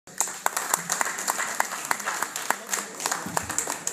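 Scattered applause at a Zin Reunion press conference in Miami, sparse individual claps standing out over a soft crowd, moderately quiet and a few seconds long.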